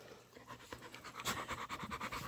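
A large 100-pound dog pants close by in quick, rhythmic breaths that grow louder and steadier, with no talking.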